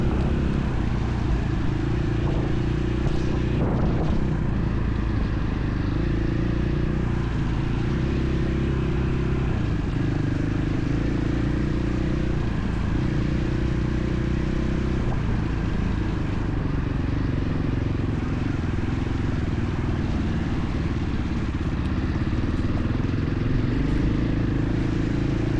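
Dual sport motorcycle ridden cautiously over wooded trails, its engine droning steadily and close with low rumbling tone and small throttle changes throughout, no voices.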